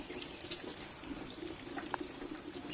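Water trickles and drips steadily from an upside-down tomato planter made from a milk jug, a faint continuous dribble with a couple of brief louder drops.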